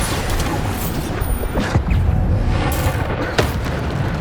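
Bombarda spell blasts in Hogwarts Legacy, deep booming explosions with rumbling low-end impacts amid constant loud combat noise, a few sharper cracks rising above the roar, close and heavy.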